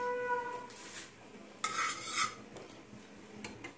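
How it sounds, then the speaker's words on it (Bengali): A kadai is set down and handled on a kitchen stove, giving a few close metallic clinks and scrapes of cookware with short pauses between them and no talking. "এবারে আমি কড়াটা বসিয়েছি।"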